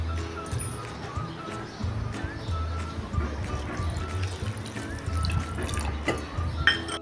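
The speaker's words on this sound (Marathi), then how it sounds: "आता यामध्ये अजून 1 वाटी पाणी टाकून घेते।" Water is poured from a bowl into semolina appam batter with soft splashing and trickling close by, and someone speaks over it.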